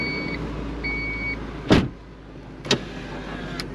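Power windows on a 1993 Honda Accord Coupe, the motor whirring under a steady idle, with a loud thump as a window stops and two smaller clunks later, close by.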